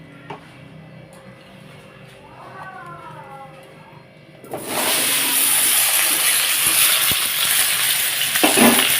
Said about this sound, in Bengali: এর মধ্যে তেল দিয়ে কচুটাকে ভেজে নেবো আগে